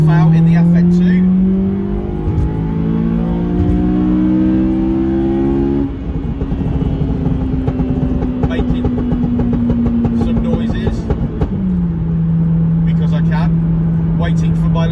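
A Honda Civic Type R FN2 driving on damp roads, its engine droning and climbing through revs with gear changes, loud and close, while a person talks over it.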